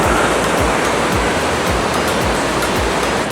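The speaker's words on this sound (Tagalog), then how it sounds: "So dito guys, mas kita mo yung waterfalls." Waterfall at Wulai, Taiwan, a steady loud roar of falling water that fills the whole stretch without a break, with no voices.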